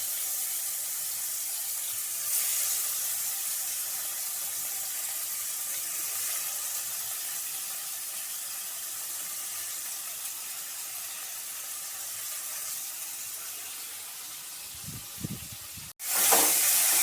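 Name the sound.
bitter gourd frying in oil in a wok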